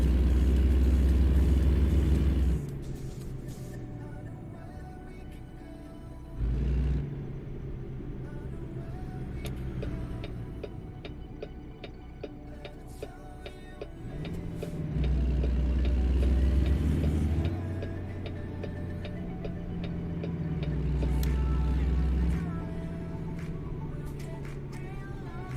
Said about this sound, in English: They've definitely put better sound effects in for the engine.